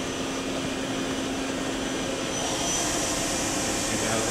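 Daewoo Puma 200LMSA CNC turning center with its main spindle running at 1,000 RPM, giving a steady whirring hum with a faint tonal whine over dense broadband machine noise that rises slightly toward the end.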